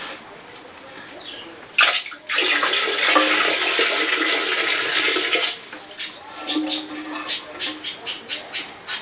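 Water poured from a container splashes and gushes into a Kohler Wellworth toilet bowl for several seconds, then settles into gurgling and a run of short drips and trickles.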